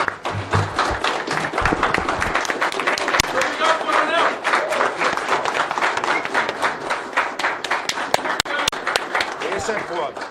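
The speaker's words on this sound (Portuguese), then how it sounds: "uma salva de palmas para o Coronel Ulisses pela iniciativa." A standing audience at a public hearing in a legislative chamber applauds in a dense, sustained burst of clapping that fills the room, with scattered louder claps and a voice over it near the start.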